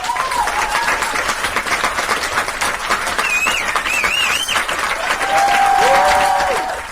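Loud, sustained applause from a crowd, dense clapping throughout with a few whistles and cheers rising over it.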